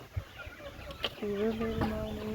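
Free-range native chickens and roosters kept for eggs, clucking in a sustained, fairly close run of calls with a brief sharp squawk near the start.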